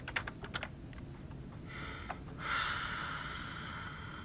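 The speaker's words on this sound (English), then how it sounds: "I'm pressing E, and I'm clicking." Computer keyboard keys pressed in quick taps during a free indie horror game, starting as a close, clicky burst that thins out, followed by a steady mid-pitched tone and a hiss with faint breathing and no speech.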